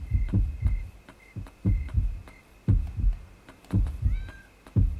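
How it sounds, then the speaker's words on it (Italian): A kitten meows in the video game Yomawari: Night Alone over a loud, steady thumping heartbeat rhythm. There are a few faint high meows, with a short rising cry near the end. "Oddio, un gattino."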